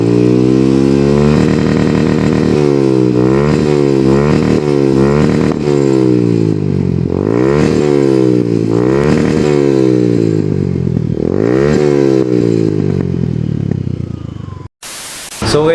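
A Suzuki Gixxer 155 motorcycle with an Akrapovic exhaust revs loudly and close, in a series of sharp throttle blips and rising, falling surges, with a brief cut near the end.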